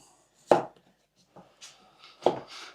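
A knife chops sharply on a board, two firm strikes with lighter cuts between, close up and without talk.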